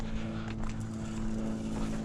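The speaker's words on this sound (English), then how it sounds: "That annoying droning sound is not my narration, it's a plane." Propeller plane droning overhead above a forest near Ballarat, Australia, a steady, fairly loud low hum holding a constant pitch throughout, with no speech.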